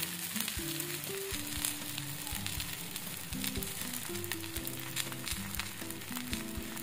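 Oil sizzles steadily in a kadai while cucumber thalipeeth cooks, a constant close crackling hiss running under melodic background music.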